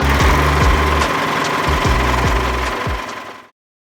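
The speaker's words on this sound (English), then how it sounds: "your domestic machine is absolutely perfect for this kind of project. It'll do that straight stitch nicely" A domestic sewing machine runs a straight stitch in loud, steady bursts with a rhythmic mechanical thumping, then cuts off abruptly.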